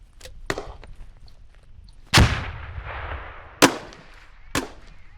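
Weapon shots on a live-fire range crack sharply, one heavy blast followed by two more spaced reports and a few smaller distant pops, each with a rumbling tail.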